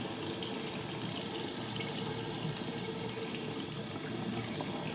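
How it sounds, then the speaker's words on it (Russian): Water runs steadily from a tap into a sink outdoors while it is left on until it turns hot, a constant close hiss with no pauses and no voices. "Сольем воду до горячей."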